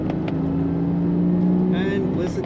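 Steady hum of a 2002 Porsche Boxster S convertible's engine while cruising, a smooth mid-loud drone with a slight rise near the end.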